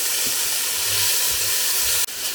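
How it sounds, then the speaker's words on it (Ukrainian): A steady, bright sizzle of onions frying in a pan, continuous hiss with a few soft low knocks, then a brief dip near the end. "Цибулю смажимо, помішуємо"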